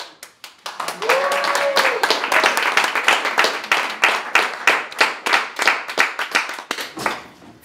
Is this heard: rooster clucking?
no